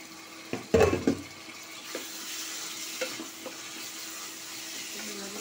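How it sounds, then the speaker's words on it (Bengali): Chicken pieces fry in spiced oil in a pan, a loud burst of sizzling and stirring clatter near the start, then a steady, quieter hiss with occasional small taps and scrapes. "চিকেনগুলো দিয়ে দিয়ে একটু ভাজা ভাজা হয়ে যাবে।"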